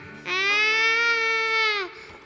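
A child cries in one sustained, high wailing sob that rises sharply, holds steady for about a second and a half, then drops away, loud and close against a quiet background.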